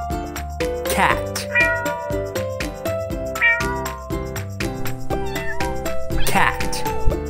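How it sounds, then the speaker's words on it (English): Cat meows repeatedly in short rising cries over a steady backing of children's music. "Cat."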